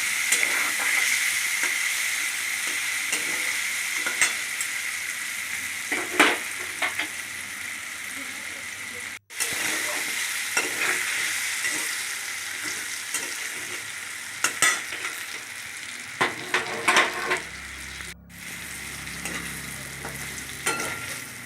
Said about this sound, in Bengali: ভালো করে নেড়ে চেড়ে ভাজতে থাকলাম